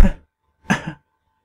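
Two short, close coughs, the second a double hack, separated by a brief silence.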